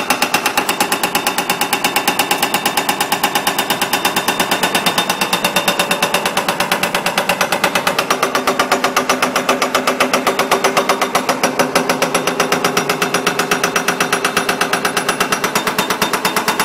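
CMB 15G hydraulic breaker mounted on a Hyundai W200 excavator hammering at a foundation construction site, a rapid, relentless metallic pounding that stays loud and steady throughout.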